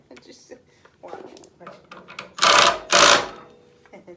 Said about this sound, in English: the tire spins